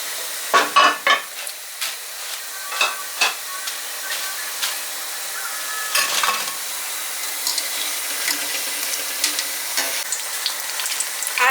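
Mixed vegetable bhajiya frying in hot oil, with batter holding gourd, cucumber and other household vegetables, some with onion and some without; a steady close sizzle with sharper bursts as pieces go in early, then settling to a softer continuous crackle.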